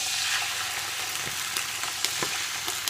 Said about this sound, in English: all I've done is I've just put my sausage in a pan. There's plenty of oil and, for good measure, a tiny bit of red wine in as well